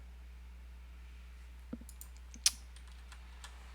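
A few scattered computer keyboard keys click faintly, with one sharper press standing out against a quiet background hum, and no one talking.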